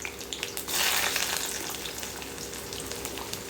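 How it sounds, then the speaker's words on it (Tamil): Shallots frying in hot oil in a kadai with popped mustard seeds for paruppu urundai kuzhambu, a continuous crackling sizzle that swells briefly near the start and then settles into an even hiss, close and moderately quiet. "கடுகு பொரிஞ்சதுமே சின்ன வெங்காயம் போட்டுக்கிறோம்."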